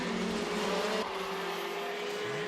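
Racing karts at a championship kart race in Kandava run steadily on the track, a continuous engine drone with a shifting tone as one passes, loud and close, with no voices.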